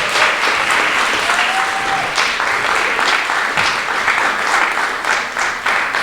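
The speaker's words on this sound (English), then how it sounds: "Let's give a big round of applause for round one." Audience applause at a poetry slam: steady, loud clapping from a crowd filling the whole stretch, with occasional whoops and no speech.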